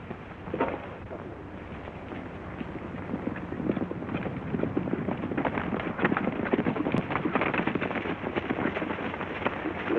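Several horses ride along at a steady pace, a continuous clatter of clip-clopping hoofbeats on the ground with no break, fairly close and moderately loud.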